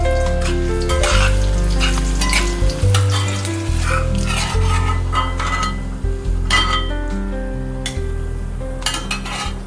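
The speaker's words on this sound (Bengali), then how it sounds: "নারকোলগুলো আগে ভেজে তুলে নিচ্ছি।" Coconut pieces fry in hot oil, giving a loud, steady sizzle, with occasional clinks and stirring scrapes of a utensil against the pan.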